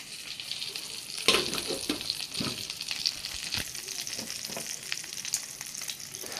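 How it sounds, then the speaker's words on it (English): Polish sausage pan-searing in a skillet, a steady crackling sizzle with sharp grease pops and splatters scattered throughout, fairly close and continuous with no talking. "pan seared. And then what I was taught in school is when you pick up your cover, tip it away in case grease splatters"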